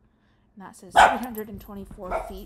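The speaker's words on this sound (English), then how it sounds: "That's my dog." A pet dog barks indoors, one loud close bark followed by a couple of softer yips, overlapping a person who is talking.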